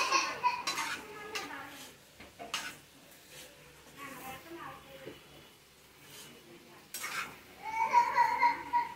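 Potatoes frying on high heat in a pan, stirred with occasional utensil clinks and a light sizzle, while a person talks over much of it.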